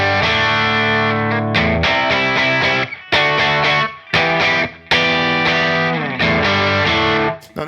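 Electric guitar through a Pedal Breed overdrive plugin modeled on a Colombo Audio Electronics pedal, loud, crunchy distorted chords struck in bursts with short gaps between phrases, close and without voices.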